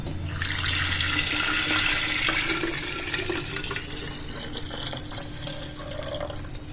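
Cooled boiled water, about 1.5 kg, is poured into a container while making kanji vada. A continuous close splashing gush starts loud and gradually thins and tapers as the pour continues, with no talking.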